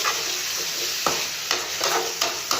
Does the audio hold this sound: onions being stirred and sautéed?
yes